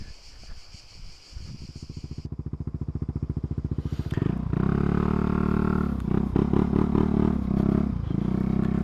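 An Italjet motorcycle starts with a sputtering, rising putter, then settles into a loud, steady engine drone with repeated rev surges and gear shifts as it rides off.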